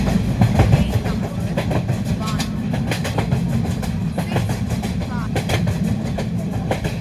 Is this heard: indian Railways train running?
yes